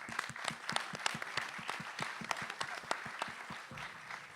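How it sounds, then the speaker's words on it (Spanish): Applause at the closing of a national congress, with scattered, distinct hand claps in a quick irregular rhythm, fairly quiet and close, thinning out toward the end. "Un aplauso a Martín."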